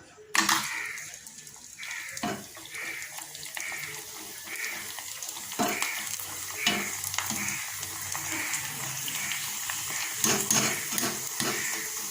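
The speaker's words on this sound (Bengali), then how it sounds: "এখন পাঁপড়গুলো ভেজে নিই" Papad frying in hot oil in a home kitchen, a bubbling sizzle with crackles and clattering handling noises, close and fairly continuous, with faint speech in the background.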